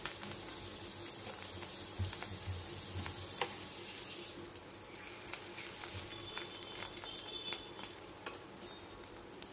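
Fish roe fritters frying in a pan, a soft, steady sizzle with scattered crackles and pops that grow busier partway through, heard alone and fairly faint.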